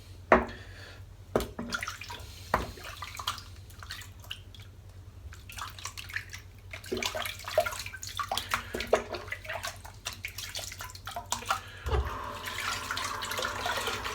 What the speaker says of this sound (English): Just rinsing the soap out now